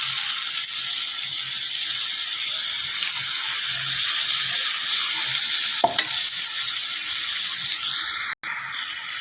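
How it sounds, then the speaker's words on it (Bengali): Onion, garlic and tomato masala paste with chili and turmeric powder stir-fried in a pan: a constant loud sizzle with scraping stirs and a brief clatter near the end, no talking. "দেখো এবারে মশলাটা ভালো করে কষিয়ে নেব"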